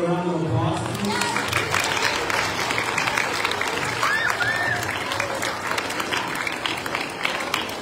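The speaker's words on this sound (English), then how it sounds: "Let's give them another round of applause, please." A school assembly audience applauds students for their sportsmanship and participation in PE, a steady, dense wash of clapping that fills the room for several seconds, with some voices mixed in.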